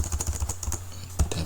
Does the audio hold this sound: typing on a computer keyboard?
yes